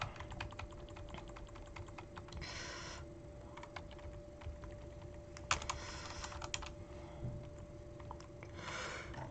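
Code being typed on a computer keyboard, soft clicking keystrokes in short irregular bursts with brief pauses, quiet and close, with no voices.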